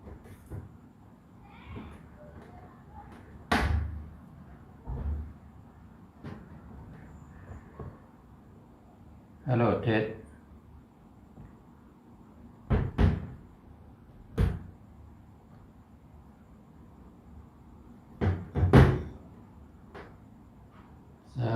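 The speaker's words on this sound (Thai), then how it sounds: "เสียงขยับโต๊ะดังดีจริง ๆ" Intermittent scraping thumps and knocks as a table is dragged across a floor, several separate bursts with quiet gaps between them.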